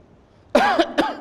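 A single harsh cough, sharp and close, breaking out after a quiet moment with a second shorter burst just after.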